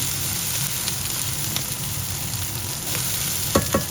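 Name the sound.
sautéing octopus for adobo in a pan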